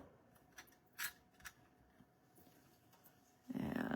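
Scissors snip through a paper foliage card in a few short, crisp cuts, close and fairly quiet, before a louder rustle of paper handling at the end.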